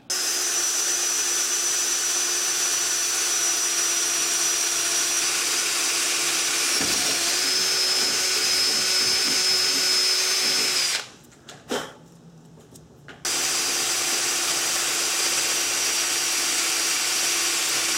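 A loud power drill whines steadily as it bores out a snapped strut bolt stem, its pitch dipping briefly under load, then cuts out for a moment before starting again.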